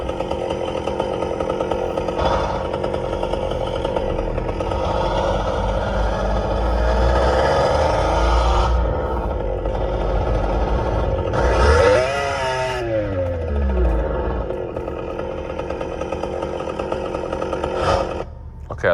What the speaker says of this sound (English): Let's do a fucking chainsaw.